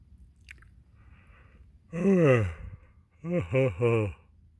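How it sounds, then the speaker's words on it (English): A person yawns twice, each one a drawn-out voiced exhale that rises and falls, the second broken into short pulses, over a quiet background. "Raccoon, I'm yawning. I had to yawn, Raccoon."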